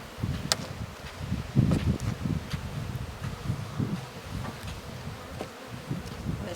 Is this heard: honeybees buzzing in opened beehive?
yes